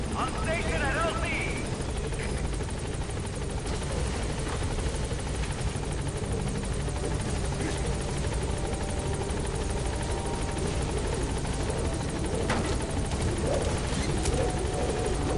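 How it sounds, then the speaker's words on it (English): A video game helicopter's thumping rotor drones loudly and steadily throughout, with voices talking over it, in Metal Gear Solid 5: The Phantom Pain. "There's a chopper."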